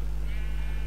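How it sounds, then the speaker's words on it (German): A single sheep in Minecraft bleats once, a short wavering call over a steady low hum. "Ach, ein Schaf."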